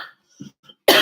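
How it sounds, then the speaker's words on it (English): A single short cough, close and sharp, after a brief near-silent pause with faint breathy noises. "as I give a cough"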